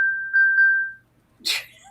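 A cell phone gives a single clear ding that holds for about a second, followed by a short breathy noise burst.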